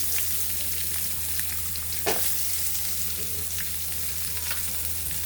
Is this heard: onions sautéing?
yes